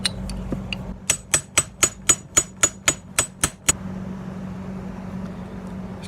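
A hammer strikes a steel wedge driven in to free a stuck part on a bumper car during motor removal and front axle work, ten sharp, evenly spaced metallic blows close up over a low steady hum, with no talking.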